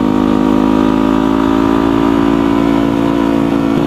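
A motorcycle engine runs close and loud with a steady buzzing drone, holding high revs as it climbs through the gears, with no voices.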